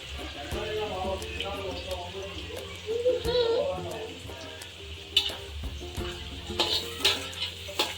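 Green chicken masala and onions fry in a large kadai with a continuous sizzle and intermittent stirring clinks and scrapes; someone talks over much of it.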